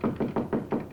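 Five quick knocks rap on a wooden door in an even rhythm, close and solid, with no voices.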